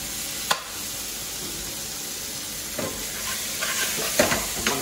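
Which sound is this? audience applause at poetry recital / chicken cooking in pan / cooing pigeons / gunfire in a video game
chicken cooking in pan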